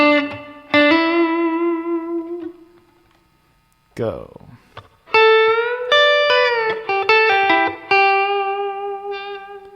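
A slow electric guitar lick from a song, played with effects: a held note, a pause, then a run of clean sustained notes with slides and pull-offs, after a single spoken cue.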